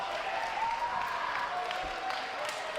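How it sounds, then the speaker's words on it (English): Crowd cheering and applause at a comedy roast, a steady dense roar of audience noise throughout with bursts of excitement layered on top. "You hear the cheering?"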